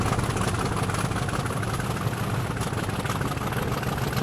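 A Class 50 diesel locomotive in a train simulator drones on steadily, its low engine rumble constant and loud throughout, with no voices over it.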